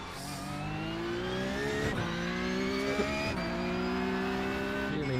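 Porsche Cup race car in iRacing at the Adelaide street circuit, a loud high-revving engine climbing steadily through gears with brief dips at each shift and tire noise underneath, continuous and close with no talk.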